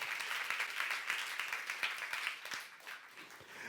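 A church congregation applauds during a youth service sermon, a dense, continuous wash of clapping from many hands that gradually softens toward the end.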